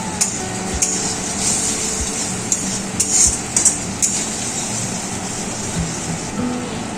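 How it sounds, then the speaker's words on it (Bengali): Masala being stirred and fried in a pan for a hilsa fish curry with raw mustard, with a steady low sizzle broken by sharp metallic clinks and scrapes of a spatula against the pan. "এবার নেড়ে চেড়ে নিচ্ছি। মশলাটাকে কয়েক মিনিট ভালো করে কষিয়ে নেব।"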